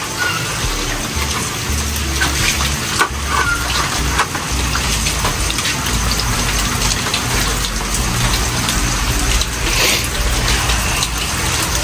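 Free-flowing water gushes in a loud, steady, continuous rush with no break, heard close by for the whole stretch.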